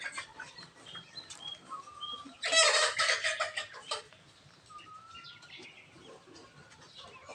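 Native chickens cluck and chatter, with a louder, busier burst of calls in the middle before settling back to scattered softer clucks.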